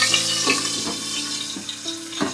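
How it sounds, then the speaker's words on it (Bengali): Koi fish sizzle and spatter in hot mustard oil, a steady frying hiss broken by a few clinks and stirring knocks of a utensil in the pan. "আমি এখন একটা একটা করে কই মাছ তেলে ছেড়ে দেব"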